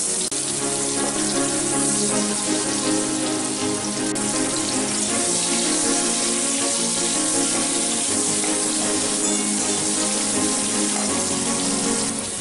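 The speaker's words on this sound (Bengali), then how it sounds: "আলুগুলো একটু ফ্রাই করে নেব।" Potatoes fry in the oil left over from cooking prawns for a jackfruit prawn curry. The sizzle is a steady, dense crackle that stays at an even level throughout, close and alone with no talk.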